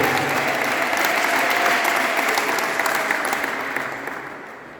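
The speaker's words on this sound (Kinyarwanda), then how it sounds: "N'impano yanyu muyikomera amashyi mu izina rya Yesu." A crowd claps loudly for graduating tailoring students at a church gathering. The dense, sustained applause holds steady, then gradually thins and fades away toward the end.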